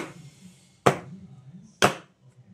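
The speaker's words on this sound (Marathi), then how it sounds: "ह्याच्यात काही जे हवेचे बबल्स असतील ते जाण्यासाठी आपटून थोडं आपटून घेतलं" Two sharp, distinct knocks about a second apart as a cake tin filled with eggless sponge batter is tapped down on a surface, with quiet background between them.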